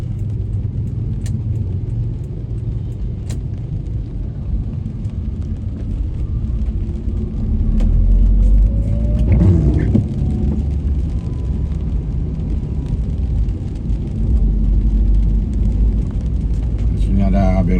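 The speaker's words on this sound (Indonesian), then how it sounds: "Aduh, macet. Ada lagi mobil berhenti." Cars crawl through a traffic jam on a city street in Makassar, Indonesia, heard from inside a vehicle as a continuous low engine and road rumble that swells mid-way, with a person talking over it.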